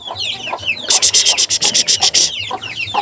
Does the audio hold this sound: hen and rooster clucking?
yes